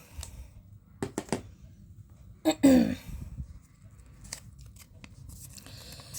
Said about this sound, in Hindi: देखिए इतनी शफलिंग करने के बाद भी ये कार्ड आया